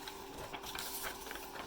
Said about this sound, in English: The fan is quite loud.